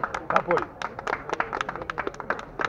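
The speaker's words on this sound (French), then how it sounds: "Plus fort, applaudissez plus fort." Sparse audience clapping at a Groland-themed event, irregular separate claps with talking mixed in, fairly faint and thin.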